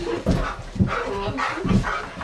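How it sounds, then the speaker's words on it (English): Dogs growl, yip and whine in short bursts as they tussle, the scuffling noises close and lively throughout. "And the dogs are still fighting."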